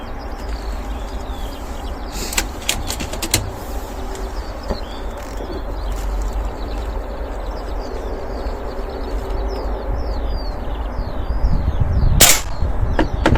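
Beeman air rifle shots crack out sharply every so often against a target disc, with outdoor birdsong chirping throughout and a louder, closer burst near the end.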